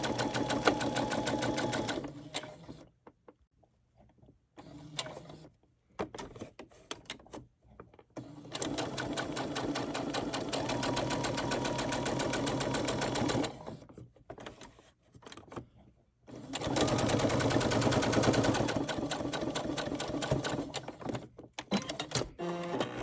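A sewing machine stitching around a fabric corner bookmark: close, steady mechanical whirring runs in long bursts, separated by short pauses where the presser foot is lifted and the fabric turned.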